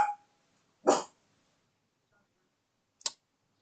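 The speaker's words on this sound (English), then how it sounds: "if you hear my dogs barking" Dogs bark in a quiet room, a few separate short barks spaced out with silence between them, one at the start, one just before the one-second mark, and a sharper, briefer one near the end.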